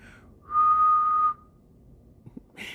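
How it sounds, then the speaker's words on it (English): A person whistles one clear, steady sustained note for under a second, loud and close, with a little quiet room noise and a brief voice just after. "am I able to whistle?"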